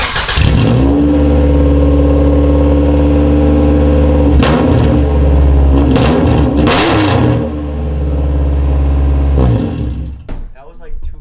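A Honda EK hatchback with an APEXi muffler idles and revs loudly nearby, a steady deep exhaust drone rising in brief throttle blips, then dropping to a rougher idle near the end.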